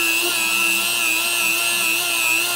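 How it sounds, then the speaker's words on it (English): A power tool polishes a groove inside a transmission bore, giving a steady, loud, high-pitched whine that holds constant without pause, close up and with no speech. "Get it nice and polished up in this groove here in the bore."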